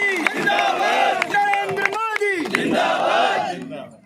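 A large crowd at a Devnarayan birth anniversary gathering with the Prime Minister, cheering and chanting slogans loudly in unison over steady clapping, voices swelling in waves.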